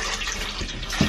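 Old coolant pours into a small boat toilet, a continuous splashing trickle of liquid heard close and alone for the whole moment.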